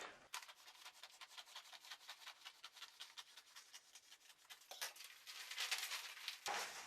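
A wooden piece is cut into a symmetric curve by hand, giving a close, steady run of rhythmic rasping strokes that grow louder toward the end.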